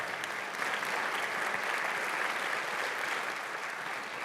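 Steady, fairly faint applause from a conference audience honoring a conservation team, a dense even wash of many hands clapping with no voices above it.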